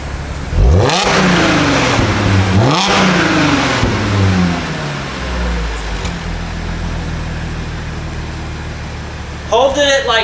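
A 2014–2017 Audi SQ5 B8 3.0T with an X-pipe resonator-delete exhaust, flap valves closed, revs up sharply twice and then settles toward a steady hold, loud and close, with people talking over it.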